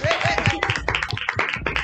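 A church audience breaks into applause, dense rhythmic hand claps close by, mixed with voices and laughter throughout.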